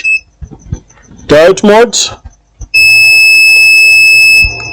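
A test meter set to diode mode, used on a dead Packard Bell Q5W laptop, gives a sharp continuous electronic beep that follows a short stretch of speech and some handling clicks.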